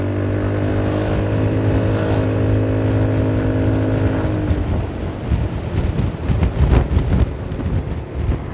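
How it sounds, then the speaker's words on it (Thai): Wind roars steadily into an open motorcycle helmet visor while riding, a loud continuous rush with engine tones underneath that gives way to buffeting gusts toward the end. "นี่ผมเปิดหมวกลมแล้วจะเข้านี่หว่าลืมไป"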